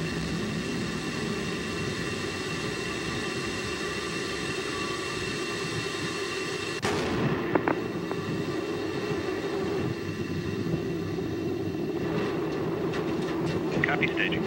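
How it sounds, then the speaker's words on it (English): Roaring, rumbling noise from Space Shuttle Discovery's ascent, captured by a downward-facing booster camera on mission STS-124, runs steadily throughout. A sharp transition marks solid rocket booster separation, followed by continued rushing and scattered clanks. "standing by for solid rocket booster separation"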